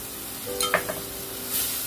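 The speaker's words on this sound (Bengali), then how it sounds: "দই দিয়ে ভালো করে একটু নাড়াচাড়া করে নিই।" Yogurt is stirred into sizzling paneer masala, a steady frying hiss under a few scraping stirs and a light clink of a spoon against the pan, with no talk.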